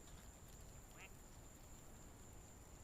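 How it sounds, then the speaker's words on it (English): A duck in a video game gives one short quack, quiet over a steady background hum. "Most of them just quack. As you can hear, that one just quacks."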